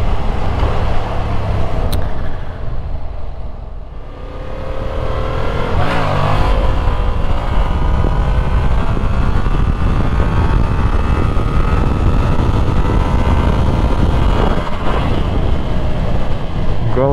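A Yamaha MT-07 motorcycle rides along a road, engine droning and rising through the gears with steady wind rush around the rider, loud and continuous throughout.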